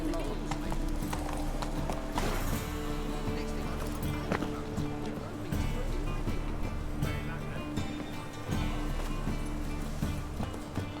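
In The Witcher 3, a horse's hooves clip-clop in a steady trotting rhythm, fairly close, over ambient game sound with a constant tonal hum, while a person talks over it.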